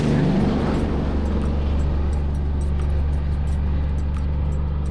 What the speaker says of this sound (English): here comes a log truck up behind me